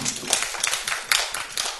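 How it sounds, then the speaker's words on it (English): Audience applause at a morning school or education forum session, a short patter of clapping from a modest crowd with uneven taps. "Please, let's give her a big clap."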